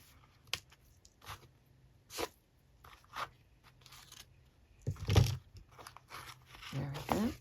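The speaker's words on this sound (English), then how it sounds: "Let's just cut that." Packaging being cut open with scissors gives a series of sharp snips and crinkles, spaced irregularly and fairly close, with a louder rustling burst near the end.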